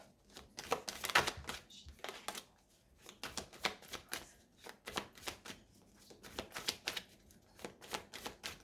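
A deck of tarot cards being cut and handled up close, producing quiet repeated papery slaps and riffles in irregular bursts.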